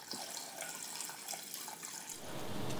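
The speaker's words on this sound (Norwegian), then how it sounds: "Heller i 3/4 liter med vann." Three quarters of a liter of water poured into a Thermomix, a steady close splashing trickle that grows fuller toward the end, with no talking.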